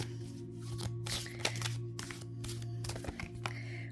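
Tarot cards are shuffled by hand in a quiet room, giving a run of soft riffling flutters and crisp slaps over about four seconds, close and moderately quiet with no talking.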